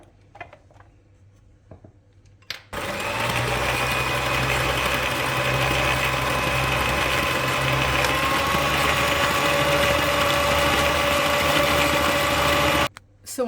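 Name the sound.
electric mixer whisking cupcake batter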